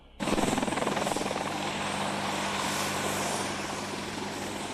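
A Boeing Apache military helicopter roars in suddenly with a loud, dense rotor chop and turbine wash that holds steady and close, then eases slightly.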